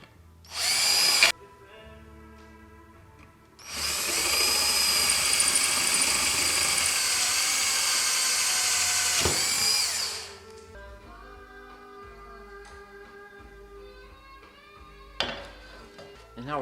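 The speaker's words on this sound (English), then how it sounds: "First, we're going to drill out these 2 holes with our number 11 drill bit" A power drill with a number 11 bit bores two holes in Van's RV-12 fuselage kit parts, a loud sustained whine in two bursts, one short and one long, with quieter motor hum between.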